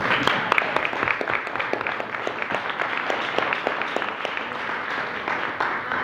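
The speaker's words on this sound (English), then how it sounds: "Amy, let's give a round of applause." Audience applause at a school board candidates forum in Utica, a sustained wash of many hands clapping with a few sharper individual claps standing out, steady and moderately loud throughout.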